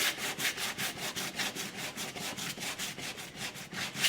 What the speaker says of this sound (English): So that's why you sand, is to get the things to like feather together kind of.